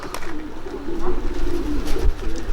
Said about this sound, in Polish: Mamy kolejne dwa gołębie.